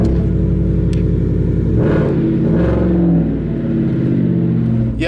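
A pickup truck engine revs loudly and close, climbing through two throaty surges over a steady rumbling idle, with no talking.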